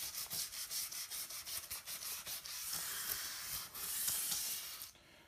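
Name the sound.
McCulloch MC1275 steam cleaner hissing steam onto a joint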